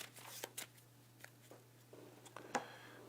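Cards for the board game Bargain Quest being shuffled: a few quick, soft riffling bursts close up, with a steady low hum underneath and no talking.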